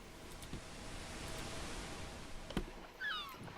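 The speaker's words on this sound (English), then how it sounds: "Oh, ocean sounds." Steady ocean-wave ambience in the Minecraft video game: a soft, continuous wash of surf, with a couple of faint clicks and a brief high chirp near the end.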